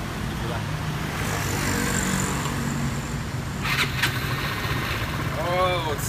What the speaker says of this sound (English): So this is my motorcycle.